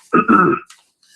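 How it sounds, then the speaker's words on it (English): A single rough throat clearing, close and loud, two quick gravelly bursts followed by a short breathy sound. "trying to clear my throat"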